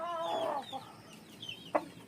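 An 11-month-old stag gamecock of the sweater line clucks softly a few times, a low throaty call followed by brief fainter clucks and one short sharp note near the end, with no talk.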